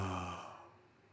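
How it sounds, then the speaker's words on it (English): An open, breathy voiced intake like the start of a yawn, made as a singing exercise to raise the soft palate; a single soft exhale that fades out over about a second, alone with no talk. "the best way to think about this is to do a beginning of a yawn"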